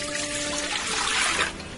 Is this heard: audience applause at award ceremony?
no